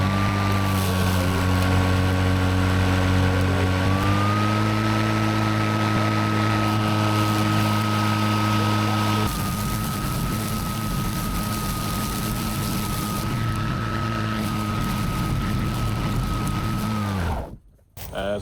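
A Greenworks 80V Pro battery lawn mower runs in turbo mode, a loud, steady motor hum and whine that steps up in pitch partway through before cutting out abruptly near the end.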